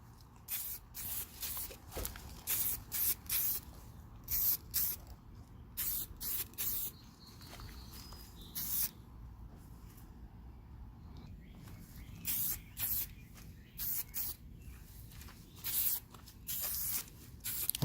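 An aerosol can sprays paint onto sneakers in a long series of short hissing bursts, some quick and some held a little longer, close and fairly quiet, with gentle handling noise between them.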